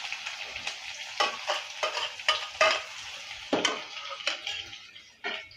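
Crushed garlic, green chili and shallots fry in a pan and are stirred in about ten rhythmic, scraping strokes. Each stroke rises out of a close, soft background sizzle.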